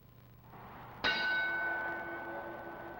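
A single ring of the boxing bell sounds sharply at a 1952 Ray Robinson versus Rocky Graziano fight, then its metallic tone rings on and slowly decays over low arena noise.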